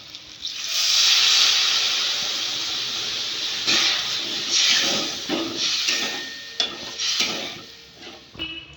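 Water poured into hot spiced oil for boal fish curry, a loud sizzling hiss that swells and then settles into crackling bubbling, with a few clinks of a utensil against the pan.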